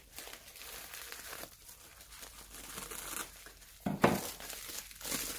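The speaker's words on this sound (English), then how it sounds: "what I'm going to do with this is, because usually this bit is smaller, is I'm going to just cut it in half" Bubble wrap cut in half while packing a puppet, giving close, continuous crinkling and rustling of plastic with a sharper, louder crackle near the end.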